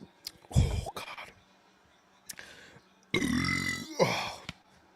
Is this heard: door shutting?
no